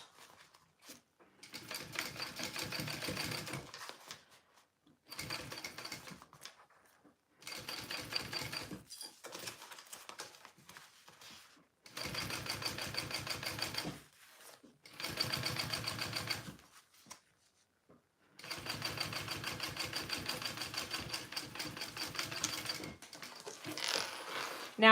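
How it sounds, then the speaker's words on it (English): Sewing machine topstitching along the bottom base of a fabric bag, running in several bursts of rapid, even stitching separated by short pauses, close and fairly loud with no talk. "I'm top stitching along the bottom base"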